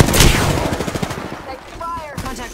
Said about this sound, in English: Take fire! Contact with target. Reloading. Shots fired.